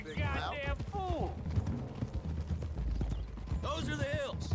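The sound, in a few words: horses galloping in Red Dead Redemption 2 video game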